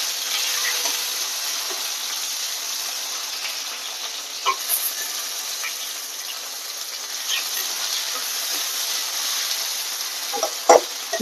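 Chopped onion frying in hot oil, heard as a steady loud sizzle with occasional stirring scrapes and small pops.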